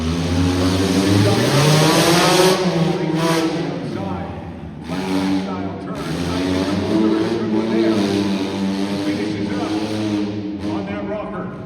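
Tough truck tearing around a dirt track in a time trial at an arena motorsports show, its engine revving and surging in loud waves with shifting pitch, an announcer's voice over it.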